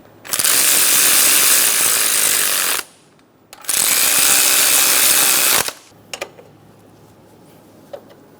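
A power tool, likely an impact gun, runs down bolts on a 2003-2007 Honda Accord during a timing belt and water pump job: two loud sustained whirring bursts of about two and a half seconds each, then faint clicks and handling noises.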